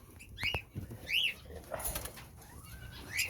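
Several pet birds chirp and call in short bursts nearby at feeding time, with sharp whistly notes and a few soft flutters, fairly faint against background noise.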